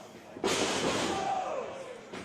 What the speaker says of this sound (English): Slamming it right there with authority.